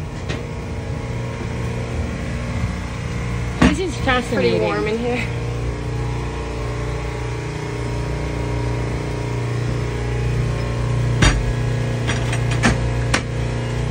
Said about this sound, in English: this is the engine room.